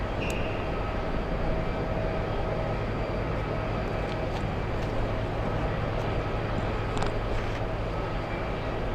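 A passenger jet on approach hums as a steady, broad low rumble that fills the whole stretch without letup, loud and continuous with no voices over it.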